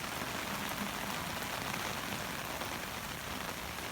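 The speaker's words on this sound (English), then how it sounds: "And this is the rain coming off the other side of the street." Heavy rain pours steadily onto a street, a dense, constant hiss of downpour with no letup, loud and close throughout.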